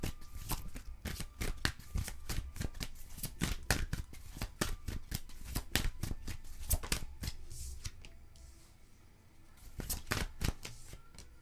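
Tarot cards being shuffled for a five-card spread, a long run of crisp riffling and slapping bursts in quick irregular rhythm, close and fairly loud, with no talking.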